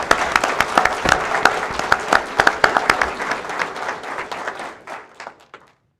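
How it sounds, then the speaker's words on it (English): An audience at a school board meeting gives a round of applause, with brisk, dense clapping that holds steady before thinning out and stopping near the end. "Let's give them another round of applause."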